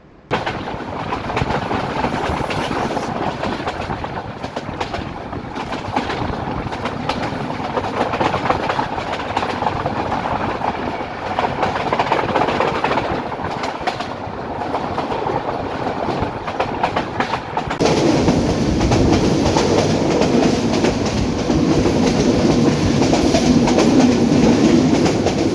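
Parabat Express (710) runs along the Sylhet–Kulaura rail section, a steady loud roar of wheels and carriages with rhythmic clickety-clack throughout, the noise swelling and shifting in tone toward the end, with no voices.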